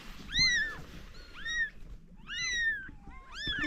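A kitten hiding in a wood pile meows four times in quick succession, each cry close, clear and high-pitched, with no talking.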